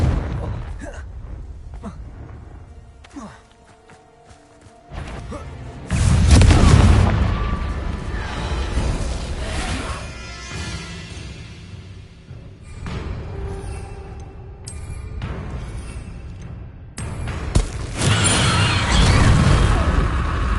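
Confringo blasting spell explosions in Hogwarts Legacy on PS5, several booming fiery bursts separated by quieter stretches, with crackling debris and rumble trailing after each blast.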